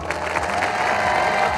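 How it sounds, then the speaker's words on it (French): A film audience claps on command after being told to applaud when arms are raised, a brief, fairly soft patter of hands with little cheering, steady for under two seconds. "c'est ça que vous appelez applaudir"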